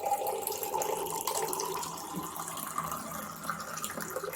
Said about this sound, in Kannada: 1 ಗ್ಲಾಸ್ ಅಷ್ಟು ನೀರು